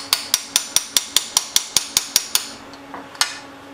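A hammer beats on a Craftsman wrench to break loose a tight bolt on a homemade water-cooled Briggs engine: about a dozen sharp metallic strikes in a steady quick rhythm, then a pause and two more blows, close and clear.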